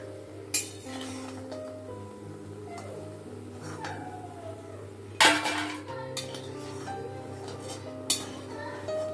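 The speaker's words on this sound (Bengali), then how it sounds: "তো বড়িগুলো ভাজা হয়ে গেছে, বড়িগুলোকে এবার তুলে নেব।" A metal ladle lifts fried lentil dumplings (bori) out of a pan, producing scattered clinks and clatters, with a few sharp, loud knocks standing out against a quiet kitchen background.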